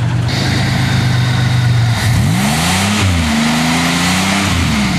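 A Buick or Oldsmobile car engine keeps running with its battery disconnected, a loud, close, steady rumble whose pitch dips and rises as it revs slightly, with no talk over it.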